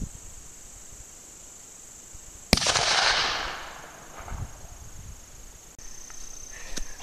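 A single sharp report from a .44 Magnum revolver firing a 200-grain load at an outdoor range, loud and abrupt with a trailing echo, followed by quiet ambience.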